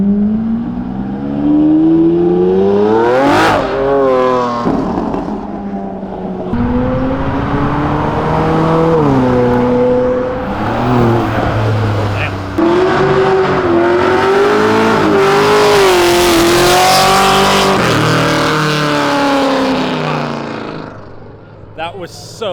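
A Ferrari LaFerrari supercar revs hard and loudly, with rising and falling engine sweeps and sustained roaring bursts that swell as it passes close by, while excited voices talk over it.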